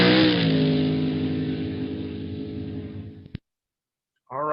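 A car accelerates steadily with a rising engine whine that holds loud for about three seconds, then cuts off abruptly before a second burst starts at the end; no one speaks.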